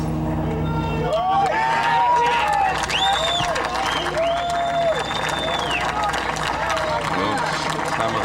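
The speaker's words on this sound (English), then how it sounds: "Some of the gallery cheering that drive with their hearts." A golf gallery at the 1996 U.S. Open at Oakland Hills cheers and claps after a drive, a steady crowd roar carrying throughout beneath commentators' talk.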